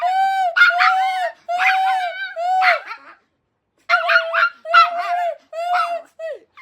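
A female dog barks in repeated bursts of sharp, tonal yelps. The clusters come close together, pause briefly, then resume. The barking is near and loud, with no other sounds.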